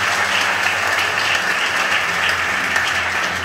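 A church congregation breaks into steady, dense applause at a healing service, loud and sustained throughout with no pauses.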